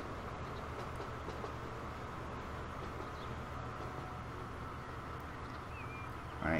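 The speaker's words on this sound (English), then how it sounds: "here we go through other freight train" A freight train rolls past in the Transport Fever 2 railway game on a UK West Coast Main Line layout, a steady low rumble and rattle of wagons that holds at an even, moderate level throughout with no talk.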